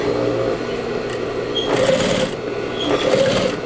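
Sewing machine stitching synthetic fabric for a small zippered pouch, a steady, close, continuous mechanical whir throughout with no talking.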